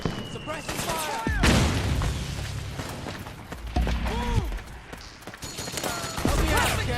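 Heavy gunfire in the video game Metal Gear Solid 4, dense overlapping bursts and booming shots from a firefight, continuous and loud with brief lulls and mechanical clatter.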